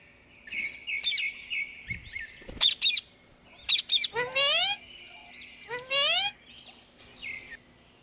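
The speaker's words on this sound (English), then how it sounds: "B for parrot." Bird-like squawks and chirps, offered as a parrot, sound in several short, loud bursts, some with rising and falling sweeps, repeating across the stretch with brief pauses between calls.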